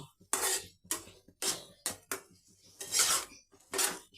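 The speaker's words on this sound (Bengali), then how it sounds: "এবার পোস্তটা দিয়ে গ্যাসটা মিডিয়াম ফ্লেমে করে ভেজে নেব" Poppy seeds fry in a pan over a medium gas flame with thankuni leaves, heard as a series of close, irregular spatula scrapes and metallic pan clatters with brief pauses between them and no talking.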